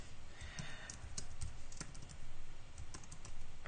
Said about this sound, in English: See, I cannot talk when I'm typing.